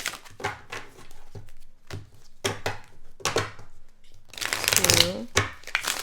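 Tarot cards riffled and shuffled in several short bursts, the last one a longer flurry, with a voice speaking in between.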